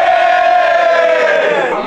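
A football matchday crowd cheers loudly at the Wanderers versus Plymouth Argyle match. It is a single sustained roar of many voices, close and dense, that fades slightly at the end.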